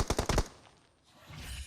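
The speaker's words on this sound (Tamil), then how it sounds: "அந்த மிஷின் கன் எடுத்துக்கோ." Machine gun fire in a video game, a quick burst of four or five rapid shots up close, then a fading tail and low background rumble.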